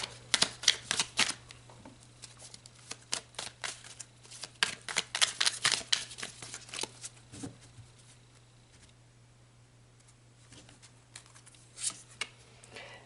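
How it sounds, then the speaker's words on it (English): Tarot cards are shuffled and drawn in bursts of crisp riffling and flicking close by, with quiet pauses between the bursts and one last short shuffle near the end. A faint steady hum sits underneath. "So let's pull another card."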